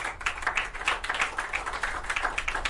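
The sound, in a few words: applause, clapping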